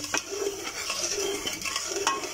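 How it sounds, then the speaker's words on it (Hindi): A spoon scrapes and clinks around a saucepan of sugar and half a glass of water over a lit flame, in short repeated strokes, close and fairly quiet, with no voices. "हिला लें इसको"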